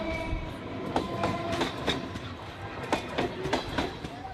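A train rolls along rails laid right beside homes, close by, with a steady rumble and rhythmic clickety-clack wheel impacts recurring every half second or so.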